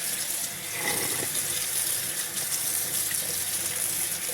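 Cold water runs steadily from a tap over cooked pasta, a broad continuous splashing rush that stays loud and even from start to finish.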